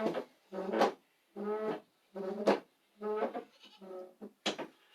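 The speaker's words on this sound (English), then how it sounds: "That's the goats out there that want to get fed" Goats bleat repeatedly in a steady series of wavering, nasal cries, fairly close and loud with brief pauses between calls.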